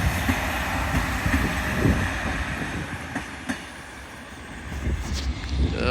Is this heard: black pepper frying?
no